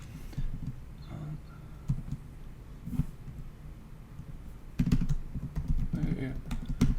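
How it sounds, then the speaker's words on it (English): Computer keyboard typing in short clustered bursts of keystrokes, close and moderately loud, with quiet pauses between bursts and a denser run of typing near the end. "I can customize this as well and type this out."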